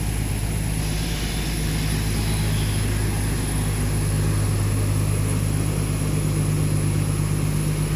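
Aircraft engines drone loudly and steadily on an airport apron as passengers step off a bus to board an Air India Express flight from Chennai to Trivandrum, a constant close roar with a deep low hum and high whine, no voices.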